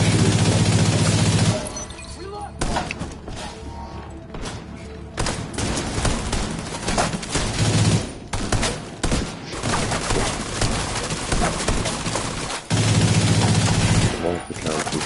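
Gunfire in the game The Division 2: loud, heavy automatic bursts with sharp impacts and breaking sounds, separated by quieter stretches of game action and occasional voice.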